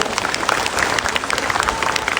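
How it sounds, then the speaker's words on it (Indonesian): A crowd applauds at an official school gathering addressed by a regional regent, with brisk, dense clapping from many people heard close and loud throughout, with no speech over it. "Ya, tepuk tangan lagi buat kalian."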